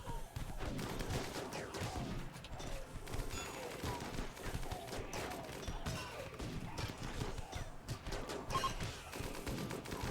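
Video game colony battle against Shamblers with turrets: dense, continuous gunfire crackles throughout, overlapping shots and impacts forming a steady chaotic clatter at moderate volume.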